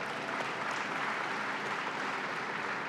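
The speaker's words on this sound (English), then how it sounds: "let's give him a round of applause." A large crowd applauds at a governor's announcement marking the completion of the $31.6 million Tessy Plastics expansion, a dense, continuous wash of clapping that holds at an even level throughout without anyone speaking.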